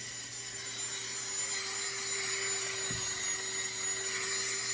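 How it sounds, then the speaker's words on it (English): A power buffer smooths and finishes a large horse hoof during a hoof restoration, giving a steady, continuous whine with a faint high tone and no breaks. "these buffers do make it nice, and they do just do a beautiful finish job"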